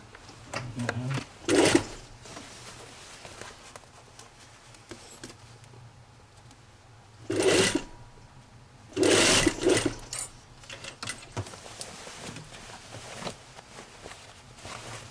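A sewing machine topstitches a jacket in short bursts: three loud runs of stitching separated by quiet pauses and faint handling sounds.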